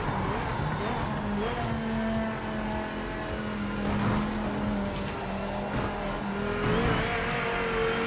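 Dodge Viper race car engine in the Project Motor Racing video game, a muffled, dull high-revving drone near 7,000 RPM with faint tire squeal and other cars in the mix, steady and moderately loud throughout.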